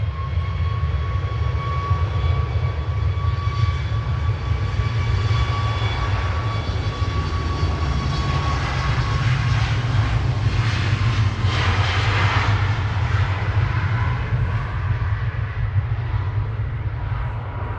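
A SunExpress jet departing Manchester Airport for Antalya gives a loud, sustained engine roar with a deep rumble and a thin whine on top, swelling slightly mid-pass and holding steady with no voices.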